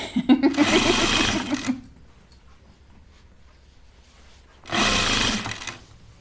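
A sewing machine stitching bias binding onto an apron runs in two steady, whirring bursts, each lasting a second or two, with a quiet pause between them, close and clear.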